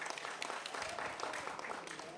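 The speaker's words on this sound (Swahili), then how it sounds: "Nipigeni makofi tafadhali." An audience at a public speech bursts into applause, a dense, even wash of many hands clapping at a moderate distance for a couple of seconds, with a speaking voice faintly underneath.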